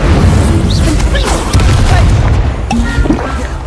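Incendio fire spell cast repeatedly in Hogwarts Legacy, a loud continuous roaring whoosh of flame with booming impacts and crackle throughout.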